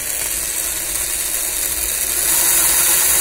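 A small Vex motor driven by an Arduino with push-button start and stop and potentiometer speed control runs steadily, giving a continuous high whirring, ratcheting buzz that rises slightly in level near the end, with no voices.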